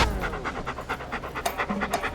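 A dog in a dancing act at a talent-show audition pants steadily and rhythmically, with quick, breathy puffs close by and no voices.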